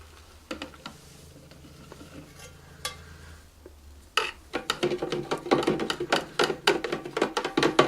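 Glycerine soap bubble solution being stirred in a container, first a few sparse clinks and taps, then a busier stretch of rapid, close, irregular stirring clatter that keeps going to the end, with no voices.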